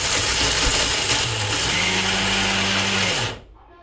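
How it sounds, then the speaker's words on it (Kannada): An electric mixer grinder whirs loudly as it grinds cooled laddu ingredients. The motor runs steadily, then cuts off abruptly, leaving near silence. "ಇನ್ನು ತಣ್ಣಗಾಗಿದೆ, ಮಿಕ್ಸಿ ಮಾಡ್ಕೊಳ್ತಿದ್ದೀನಿ"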